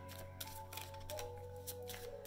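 Tarot cards being shuffled by hand, heard as soft, quiet riffling bursts that repeat irregularly over a low, steady background hum.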